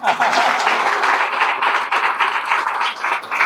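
Clapping from a large audience at a Guru Purnima satsang gathering, dense and loud, a continuous wash of applause that carries on steadily and close throughout.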